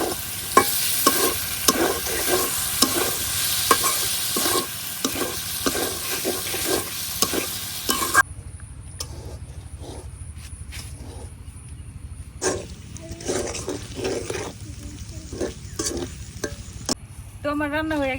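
Snail meat cooking in a pan while being stirred, with loud crackling sizzle and repeated scraping strokes at first, then quieter frying with intermittent stirring clicks and scrapes.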